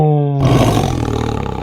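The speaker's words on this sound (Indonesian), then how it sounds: "Ayahnya menyebutnya ini harimau." A tiger lets out one deep, powerful roar, loud and close, with a low rumbling tail that pulses as it fades.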